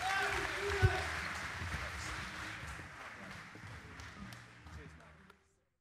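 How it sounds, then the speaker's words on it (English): Crowd applause at a semi-final of the 2021 World Pool Championship, a steady spread of clapping across the arena that slowly fades before cutting to silence, with some voices underneath. "Ladies and gentlemen, round of applause, Jason Shaw."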